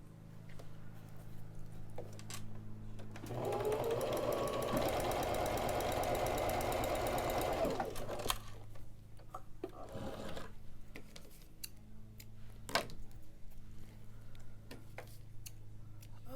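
Sewing machine stitching fabric face mask pieces in one steady run of several seconds, its motor humming under rapid needle ticks, with quiet handling clicks and taps before and after.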